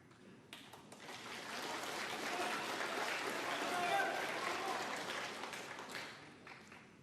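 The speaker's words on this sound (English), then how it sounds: "some of the O'Sullivan fans applauding him having the white put back" Snooker crowd at the 2019 Shanghai Masters applauding a foul-and-miss call in the Ronnie O'Sullivan versus Neil Robertson match: steady mid-distance clapping from many hands that swells and then fades over about seven seconds.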